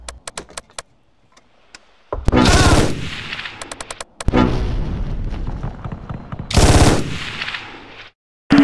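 Bursts of machine-gun fire and single gunshots in the World War II strategy game Close Combat, with D-Day-era combat near an abbey, sharp and loud, broken by short gaps and separate rapid clicks.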